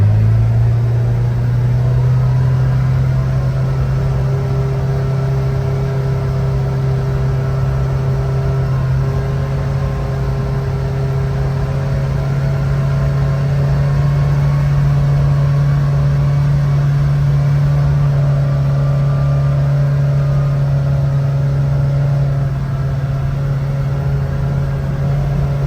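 A 2024 Kawasaki Ridge XR with aftermarket clutch springs runs a speed test, its engine droning loud and steady with a slowly rising pitch, heard close up with no talk throughout.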